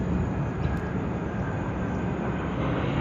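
A Boeing 777-300ER rolls out on landing at Sydney Airport with thrust reversers deployed, giving a loud, steady broadband jet roar that holds without a break, with no talk over it.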